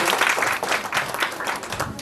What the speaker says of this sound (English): let's round of applause for Alfian.